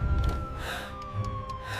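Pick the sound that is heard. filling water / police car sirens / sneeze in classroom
police car sirens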